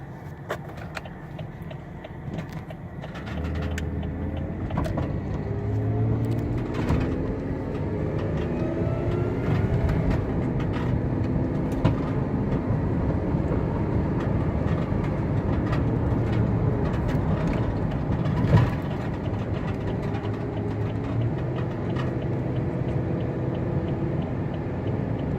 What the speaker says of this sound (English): give you a chance to listen to the transmission shift, the engine run